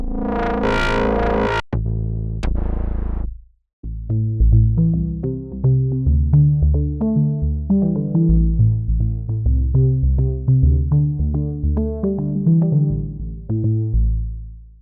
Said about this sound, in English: the retro synth. So let's try some of those basses, deep square bass.